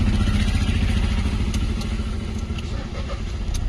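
A car engine running during a driving lesson, a loud steady low rumble with rattling clatter throughout, close up and with no talk.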